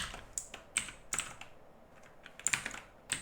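Typing on a computer keyboard at a desk, a few sparse, close key clicks in short bursts with quiet pauses between, no voices.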